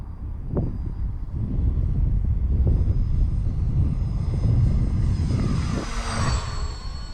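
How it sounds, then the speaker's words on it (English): An E-flite Valiant RC airplane flies in windy conditions, its electric motor droning steadily and rising in pitch as it passes, with gusty wind buffeting the microphone throughout. "This is a fun flying plane right here."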